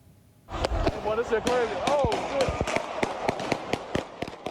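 A rapid series of sharp gunshots cracks out repeatedly while a crowd shouts and screams underneath.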